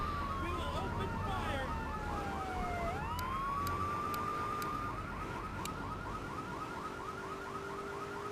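Wailing police sirens from a GTA 3 car chase, several overlapping sweeping tones cycling steadily and loud throughout, with one long falling whoop near the start, over a constant game-engine rumble.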